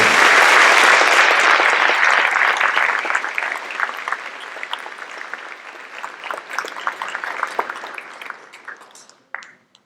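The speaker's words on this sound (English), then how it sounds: "A round of applause to our senior members of the class" A high school world language awards audience applauds senior class members, dense clapping starting loud and tapering off to scattered claps before stopping.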